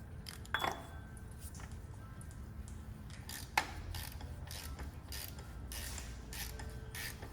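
A filter wrench working on a 2014 Toyota Rav4's plastic oil filter housing, a faint series of creaks and ratcheting clicks with a few sharper metallic ticks, quiet and close.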